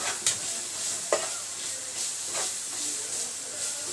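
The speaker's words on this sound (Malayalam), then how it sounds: "അപ്പൊ ഉരലില് ചതച്ചുവെച്ചിട്ടുള്ള വെളുത്തുള്ളി ഇഞ്ചി ഇട്ടാൻ പോവാണ്." Crushed garlic and ginger hit a hot pan and sizzle with a steady hiss, broken by a few sharp scraping stirs of a spoon, close and fairly quiet.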